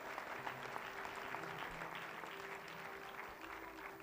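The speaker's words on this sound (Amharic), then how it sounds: "እሺ እስቲ አጨብጭቡ" A church congregation claps together in steady, dense applause at a Seattle service, a continuous even patter that holds for the whole stretch with faint low hum beneath.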